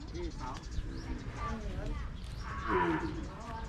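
Cattle low at an open livestock market for cows and buffalo in Tak, Thailand, a couple of moos rising over a steady crowd murmur, with people talking throughout.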